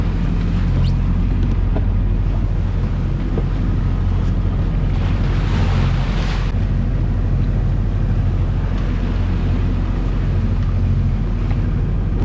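Heavy sea swell and breaking waves around a sailboat on the Scandinavian coast, a continuous loud rushing wash with strong wind buffeting the microphone throughout, no voices.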